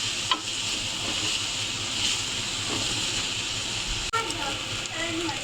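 Chickpeas frying with masala spices in a pan for Lahori cholay, a steady close sizzle with occasional stirring scrapes and a sharp clink near the end.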